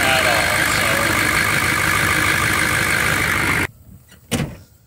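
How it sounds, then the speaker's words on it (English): A 6.5L diesel truck engine idles with an old indirect-injection clatter, loud and steady up close, then cuts off abruptly near the end, leaving a faint thump. "I love the sound of such like clacky old indirect injection"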